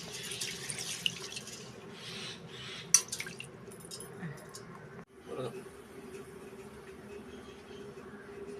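Water being poured over rice left soaking for a chicken biryani, a steady trickling and splashing into a vessel that runs through the whole stretch at low level, with a brief louder knock near the middle.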